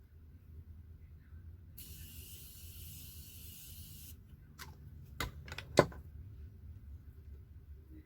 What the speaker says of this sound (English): now I'm going to spray my Morphe setting spray